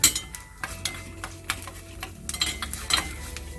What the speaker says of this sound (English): We'll fry this until the urad dal changes color.